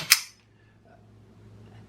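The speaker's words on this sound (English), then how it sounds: "that happens right at the point of the explosion of the cartridge and the slide cycle and the recoil" A Browning Hi-Power pistol fires a single sharp shot with a quick crack of the cartridge and the slide cycling, followed by a short, quiet decay and near silence.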